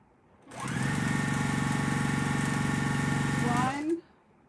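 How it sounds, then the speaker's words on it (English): A sewing machine stitching quilt blocks, a steady rapid mechanical whir that starts abruptly, runs for about three seconds at even speed, then winds down and stops, close and alone. "I'm going to sew"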